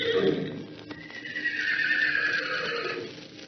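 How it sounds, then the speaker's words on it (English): A horse gives a single loud, drawn-out whinny that rises and wavers before trailing off. "he lifted up his voice and called to them, the long bugling neigh of his kindred"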